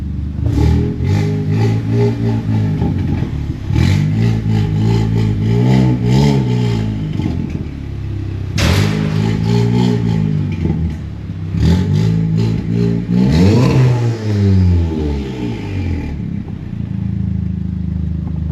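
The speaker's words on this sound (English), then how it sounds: "Now it sounds like a proper Golf R." A Volkswagen Golf R with an upgraded exhaust revving hard several times, loud and close, each rev rising and falling with crackling on the overrun, with no talking.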